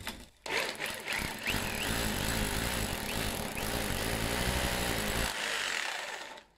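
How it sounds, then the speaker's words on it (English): A power drill whines and grinds continuously for several seconds at close range, drilling into a brick wall's mortar, starting and stopping abruptly. "I'm going to drill into that and see what I can find."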